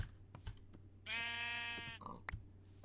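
A single sheep bleats in a video game, one drawn-out nasal baa lasting about a second, faint and clear, with light clicks and soft game noise around it.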